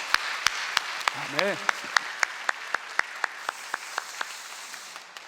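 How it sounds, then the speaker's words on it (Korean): A church congregation at a Friday prayer meeting claps in a steady, sharp rhythm for several seconds over a soft crowd wash, while a voice briefly calls out partway through. "우리 한번 큰 박수로 한번 격려합시다."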